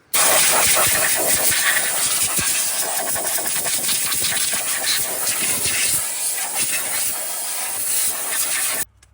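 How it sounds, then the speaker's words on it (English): Compressed air blasts dust out of a Polaris Ranger 1000 XP clutch in one loud, continuous hiss that holds close for about nine seconds and then cuts off abruptly. "I'm going to clean, and I'm just going to do that with compressed air"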